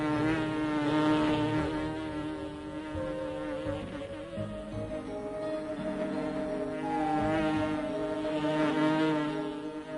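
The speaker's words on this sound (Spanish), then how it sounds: "Si se sigue paso a paso el vuelo de esta mosca" A housefly buzzes continuously in flight, a steady droning whine that swells and fades slightly as it moves, with no voices.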